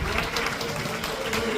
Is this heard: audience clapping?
yes